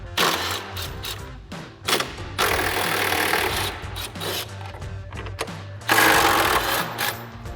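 Socket tool ratcheting and whirring in bursts as mounting bolts are removed from a fog light on a 2021-2023 Ford F-150, close and fairly loud, with short pauses and clanks between runs.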